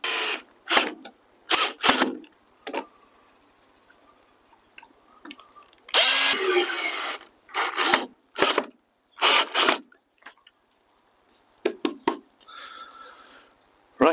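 A power driver running screws into brackets on a wooden noggin, heard as repeated short whirring and ratcheting bursts, close and loud, separated by quiet pauses.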